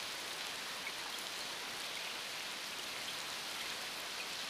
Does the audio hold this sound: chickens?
no